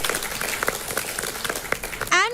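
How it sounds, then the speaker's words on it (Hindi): Studio audience clapping on a reality competition show, a brief burst of dense applause that ends as a voice begins. "दोस्तों जोर से तालियां।"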